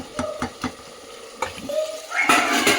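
Chopped onions hit hot oil and are stirred, giving a few scraping spoon strokes before a bright sizzle swells up near the end, close and fairly loud, no talking.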